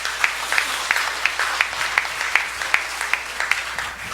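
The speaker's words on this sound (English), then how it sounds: "Once more, we give Señor Santo Niño and Mama Mary a big round of applause" A church congregation applauding Señor Santo Niño and Mama Mary at a Kaplag reenactment Mass, a broad even roar of hands with a regular sharp clap standing out about three times a second.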